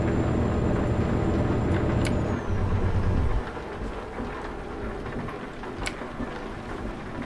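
Steady rain pours while a truck drives in Euro Truck Simulator 2, with a low engine rumble that drops away partway through. A few sharp drop or tick sounds rise above the wash of rain.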